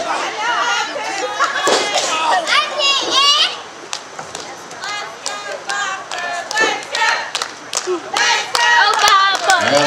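A small wrestling crowd cheers, shouts and claps for Johnny Viper, with excited voices and scattered sharp hand claps rising and falling through the whole stretch.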